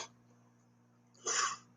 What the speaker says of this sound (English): Sorry about all the sniffles. I'm getting over a cold.